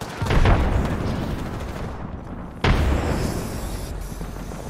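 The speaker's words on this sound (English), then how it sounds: "Tossing thermite!" A thermite grenade thrown in the Apex Legends video game bursts loudly with a sharp boom near the start, then a second hard impact lands midway, each trailing into a dense roaring crackle of fire and battle noise.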